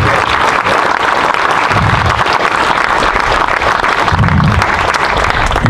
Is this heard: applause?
yes